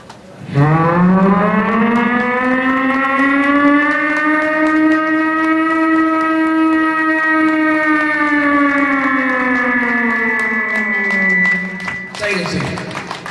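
A performer at a Korean agricultural festival imitates a siren with her voice, one long sustained wail that rises, holds steady for about ten seconds, then drops off, loud and close.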